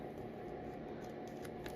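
Scissors clip and round off the edge of paper, a quiet close-up snipping with soft crisp cuts over a low background hum.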